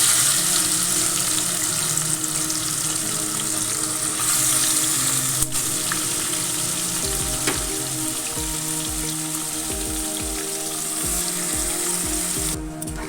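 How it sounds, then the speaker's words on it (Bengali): Marinated mutton fries over a high flame in oil, a loud steady sizzle with occasional scraping of a spoon in the pan, close and continuous without speech. "5 মিনিট মতো হাই ফ্লেমে মাটনটা কিন্তু আমি কষিয়ে নেব।"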